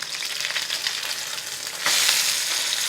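A pan-seared sea bream (dourade) fillet sizzles steadily and loudly in a hot pan, and the frying noise swells sharply as the fish is flipped partway through. No voices are heard.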